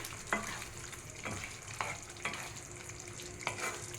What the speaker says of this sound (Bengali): সবার শেষে আপনার একটু কাসুরি মেথি অ্যাড করবেন। ওর একটু নাড়াচাড়া করে